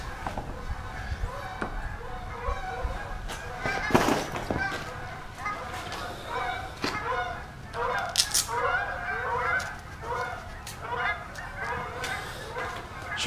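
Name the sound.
flock of geese honking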